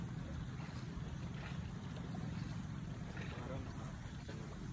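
Steady engine-like rumble with wind and water noise from a motorboat running nearby, with faint voices in the background.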